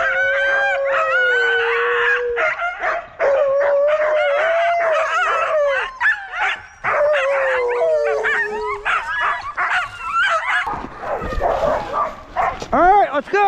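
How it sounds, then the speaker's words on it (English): A sled dog team howls and barks in a loud chorus close by, with overlapping rising and falling howls, sharp yips and whines, and a burst of excited barking near the end. "nice looking dog team"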